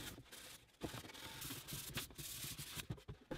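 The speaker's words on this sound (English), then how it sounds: "we can get everything sanded, and I'm just finishing off the edges by hand." Hand sanding along the edges of birch plywood boxes, a steady close scratchy rasp in repeated back-and-forth strokes with brief pauses between passes.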